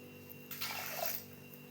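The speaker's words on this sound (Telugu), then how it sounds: "దీంతో 2 గ్లాస్ వాటర్ అయితే పోసేస్తున్నాము" Water poured from a glass into a bowl of soaked lentils, a short splashing pour of about half a second, close and fairly soft, with no talking.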